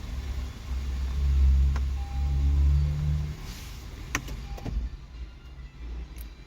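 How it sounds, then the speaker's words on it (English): An Acura MDX with a parking brake malfunction starting up: a deep engine rumble swells for a few seconds, then a few sharp clicks sound over a quieter idle. "let me start the car because maybe the diagnosis was early"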